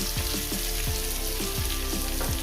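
Chopped onions fry in hot oil for a Bengali brinjal and tomato dish, giving a loud, dense, continuous sizzle close by with no speech.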